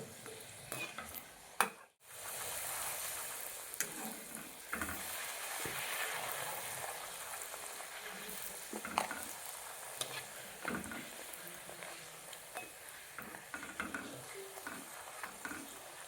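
Wheat flour puri with a little maida deep-frying in oil over a medium flame, a soft continuous bubbling sizzle with occasional clinks of utensils and a brief drop in sound near the start.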